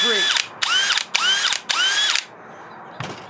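A DeWalt Flexvolt DCD999 1/2-inch hammer drill/driver on its fastest third speed whirs up in four short, loud bursts separated by brief pauses, followed by a faint click.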